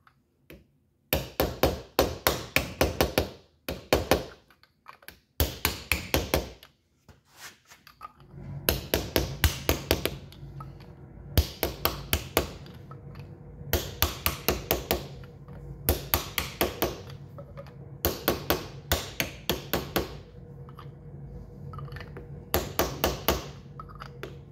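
Oiled valve seals are driven onto Edelbrock E cylinder heads for a 283 Chevy with a hammer: loud, close clusters of rapid metallic taps, repeated in bursts separated by short pauses, with no talking.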